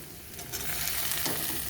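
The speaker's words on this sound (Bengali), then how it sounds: "দেখো বন্ধুরা পেঁয়াজটা হালকা লালভাবে ভাজা হয়ে গেছে" Onions sizzle and crackle steadily in a hot pan, with a few soft stirring scrapes, close and fairly quiet, no voices.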